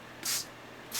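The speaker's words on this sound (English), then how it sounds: "I spray them." Water misted from a spray bottle onto paper for Chinese brush painting: two short, breathy hissing bursts close by, separated by a brief pause.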